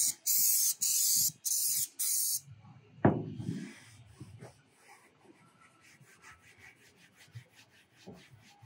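Four loud bursts of spray hiss in quick succession as coating is sprayed onto a phenolic plywood trailer floor, followed by scraping and rubbing sounds on the hard surface.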